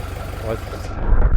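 Scout TE504 mini tractor engine idling with a low, steady rhythmic chug under continuous nearby talk, growing slightly louder toward the end.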